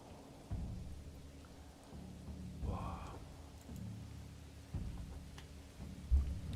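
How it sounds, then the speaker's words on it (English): Rain patters steadily in the Manor Lords video game while low thunder rumbles roll in and out, fairly faint and distant, with a brief louder crack near the end. "It's raining."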